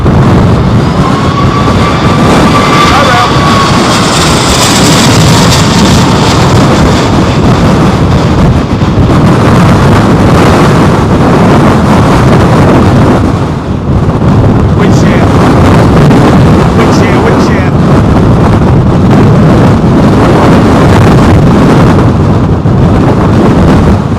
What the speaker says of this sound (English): There's no one complaining about the wind